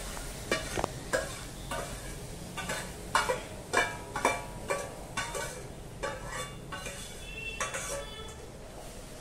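Coarse rice grits cooking in boiling water are stirred in a pot for rice kheer, giving repeated scraping and clinking strokes at a steady rhythm over a soft bubbling hiss, close and moderately loud.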